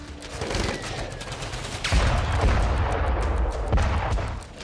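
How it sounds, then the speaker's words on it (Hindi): Russian artillery firing around Artemivsk in a war zone, a continuous loud barrage of booms and blasts with sharp thumps rolling over each other, heavy and close. "यहां रूस की 200वीं ब्रिगेड आर्टिलरी से फायरिंग कर रही है।"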